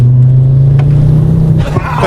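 A Ford Focus RS accelerates past in a loud drive-by, a strong low engine drone holding steady before shifting as the car pulls away, with no talk over it.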